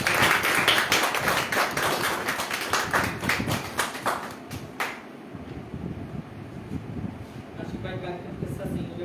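A gathered audience at an Indian community program claps loudly for an honoured guest. The dense, rapid applause lasts about five seconds, then breaks into scattered claps over murmuring voices and room noise.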